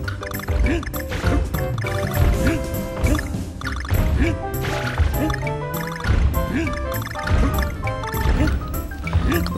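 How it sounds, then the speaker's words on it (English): Steady dripping from a cave ceiling in the Donkey Kong Country Returns video game, heard under loud game music and sound effects throughout. "And yet the ceiling is still dripping."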